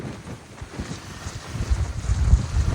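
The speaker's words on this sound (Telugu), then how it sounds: "నిజంగా గాలి సౌండ్లు అయితే చాలా భయంకరంగా ఉన్నాయి సౌండ్స్" Strong cyclone wind roars and buffets the microphone, building in rumbling gusts that grow louder toward the end, during Cyclone Montha in Kakinada.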